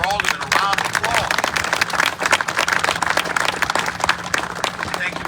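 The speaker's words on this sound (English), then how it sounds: "Let's give our city council members, our aldermen, a round of applause" An outdoor crowd at a ribbon cutting for the Todd School housing project in Aurora, Illinois, claps in a dense, steady round of applause, close and fairly loud, with scattered voices mixed in.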